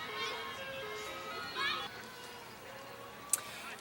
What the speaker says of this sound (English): Every other one, we've had an ambulance go by, but this time we have an ice cream truck.